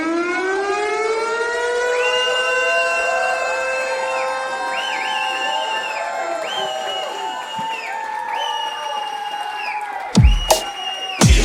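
A civil defense siren wails at a live showcase performance, rising and holding a loud, sustained oscillating howl, then giving way to a few sharp bursts of noise near the end.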